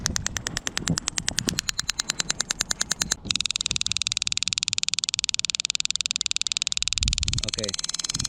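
A Taser X2 fires, giving off a rapid loud rhythmic clicking pulse, then a high steady electrical whine broken by crackles, with wind and a voice at times.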